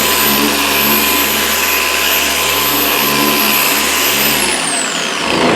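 Harbor Freight 6-inch polisher running continuously, a loud, steady motor whir with a low hum and rough buzzing close by, no talk, easing off slightly near the end.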